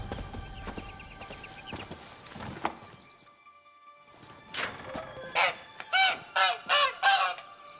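Hen in The Witcher 3 video game giving a run of loud honking calls, five or six rhythmic bursts close together near the end, after earlier scattered clatter and thumps.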